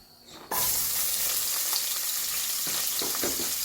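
Sliced onions dropped into hot oil for beef pulao burst into a loud, continuous sizzle after a quiet start, with occasional stirring clicks under the hiss.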